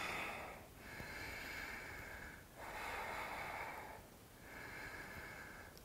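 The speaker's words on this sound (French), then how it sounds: "Et je respire." Slow pranayama yoga breathing during a flow: three long, steady airy breaths, each inhale-exhale sweeping across several seconds with brief pauses between, close and fairly quiet with no talking.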